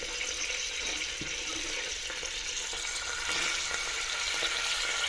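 Chopped onions fry in oil inside a pressure cooker, giving a steady, soft sizzling hiss with occasional faint stirring clinks and no talk.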